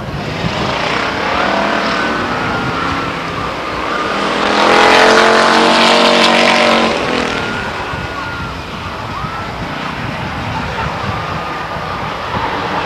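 Race cars take off at the start of a race at Stockton 99 Speedway, a loud continuous engine roar that swells as the pack passes close by, then settles into a sustained drone.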